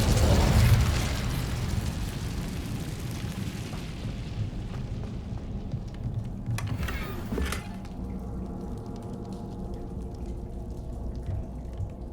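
Incendio fire spell cast in Hogwarts Legacy, a sudden fiery burst up front that tails off into a lingering crackling roar, with a brief whooshing effect partway through.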